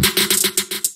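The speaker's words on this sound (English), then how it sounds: "I just added this roll. It's just doing triplets." Quick programmed snare roll in triplets, a rapid burst of bright crisp hits with tiny inner rolls, close and fairly loud, lasting about a second and cutting off abruptly.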